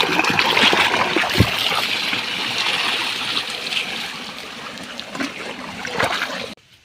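Water pours onto guava plants in a farm field with a steady splashing trickle. A few soft knocks and bumps sound close by, and the sound drops off abruptly at the end.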